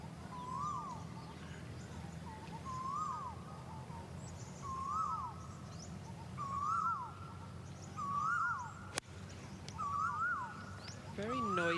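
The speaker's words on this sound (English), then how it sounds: "Very noisy birds here in Thailand." Noisy birds in the trees along the boundary of a golf course in Thailand call repeatedly, a looping whistled phrase about every second and a half, with faint chirps from other birds over a steady outdoor hum.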